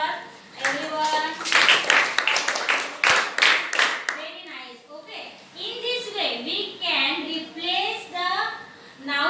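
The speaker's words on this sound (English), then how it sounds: "clap for everyone" Schoolchildren in a classroom clap together in a quick burst of hand claps, followed by children's voices talking and chanting close by.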